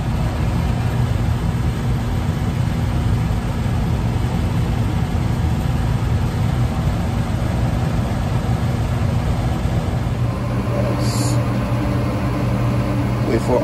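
A Goodman gas furnace blower runs close by as a steady low hum and rumble, continuous throughout, with a faint change near the end.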